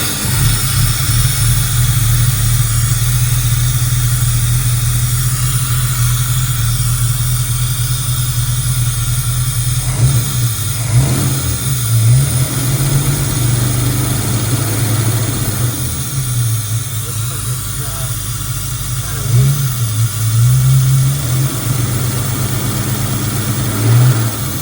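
A small engine runs steadily while driving a used generator, a loud continuous mechanical drone with a couple of brief dips and surges in pitch partway through.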